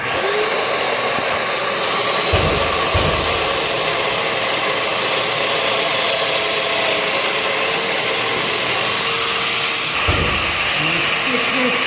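A Festool Domino DF 500 joiner plunge-cuts mortise holes in wood, a loud continuous whirring motor drone with a couple of brief heavier bursts as the cutter plunges, running steadily throughout.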